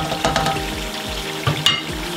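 Garlic and ginger frying for a vegetable stew sauce, with a close, steady sizzle and a few sharp clicks and scrapes from stirring.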